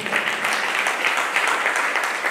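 An audience at a Jain monk's religious discourse applauds, a steady moderate clapping that holds for a couple of seconds without talk.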